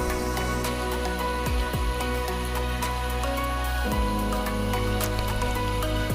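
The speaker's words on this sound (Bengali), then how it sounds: "এবার ভালো করে নেড়ে চেড়ে যতক্ষণ না মজে আসে এটি ভাজতে থাকবো।" Spice paste of cumin, ginger, chilli, turmeric and salt fries in a pan with a steady, soft crackling sizzle and scattered pops and clinks throughout.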